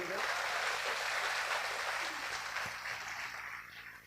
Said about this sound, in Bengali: ওদের জন্য একটা তালি দিয়ে দেন